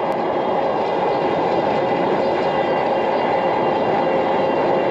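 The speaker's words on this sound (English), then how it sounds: "there's definitely a lot of wind here" Heavy, steady wind noise buffets the microphone of Bluetooth audio glasses while riding fast outdoors, a dense continuous roar that fills the whole stretch with no pauses and no voice.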